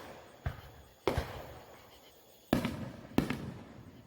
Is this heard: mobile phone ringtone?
no